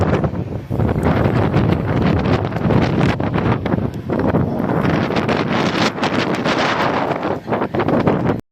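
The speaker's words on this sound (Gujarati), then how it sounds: "પવન બહુ ગતિ વધી ગઈ છે, ગજબ પવન વધી ગયો છે." A strong wind blows in bad, rainy weather near trees and a local train line, roaring and buffeting the microphone loudly in continuous gusts.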